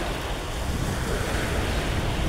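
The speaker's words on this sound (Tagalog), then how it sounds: "yung tunog ng dagat parang yung music niya talaga nagpo-produce ng yung relaxation" Sea waves wash against the shore on a fishing trip, a steady broad roar of surf with wind noise buffeting the microphone and no voices.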